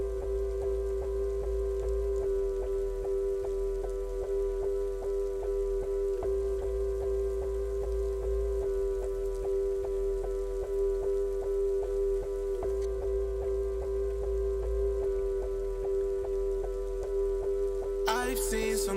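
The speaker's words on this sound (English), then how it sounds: "Is that the rain in the background?" Steady rain patters softly in the background of a song, a faint, continuous hiss beneath sustained musical tones that hold throughout before a brief change near the end.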